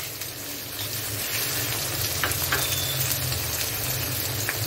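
Onions and green chillies frying in a pan with a little salt, a soft continuous sizzle with faint crackles, moderately close and steady, with no voices.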